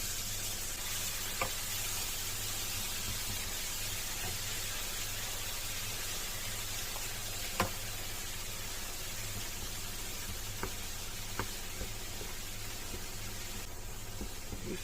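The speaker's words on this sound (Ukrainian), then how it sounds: "смажимо це разом, воно має стати м'яке" Continuous crackling sizzle of mushroom stems frying in butter in a pan, steady and close, with a few faint clicks of utensils and no talking.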